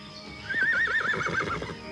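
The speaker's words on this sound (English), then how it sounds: "Horses." Horses neighing, a wavering, trilling whinny rising over faint hoof clatter, heard at moderate distance for about a second and a half.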